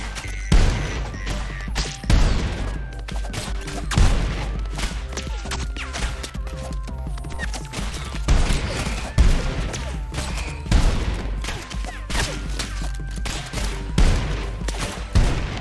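Rapid gunfire in ROUNDS after switching to bigger bullets, with loud repeated shots and heavy low thumps fired in bursts throughout, steady and close with no talk.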